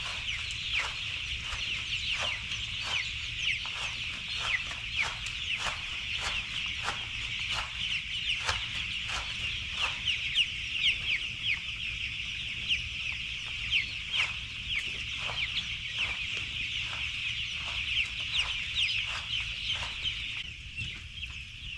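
Flock of chickens clucking steadily on a farm, with many overlapping short clucks and calls repeating throughout at moderate distance, no voices.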